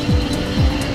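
An electric MotoCzysz racing motorcycle flashes past at full throttle in the TT Zero at the Isle of Man TT. Its loud, whining motor sweeps down in pitch, and a second whooshing pass follows within a second.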